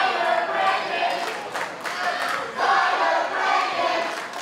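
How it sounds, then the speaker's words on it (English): A wrestling crowd at a match between Ken Dixon and Dirty Money roars, shouts and claps in loud surging waves, swelling and dipping over several seconds with no clear single voice on top. "You can certainly hear the crowd's thoughts on this topic."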